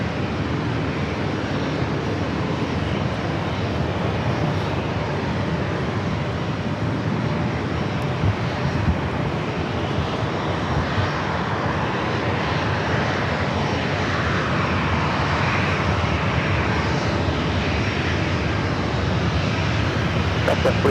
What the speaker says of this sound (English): The next arrival is that flight coming in from Phoenix, the 737 MAX 8, American Airlines flight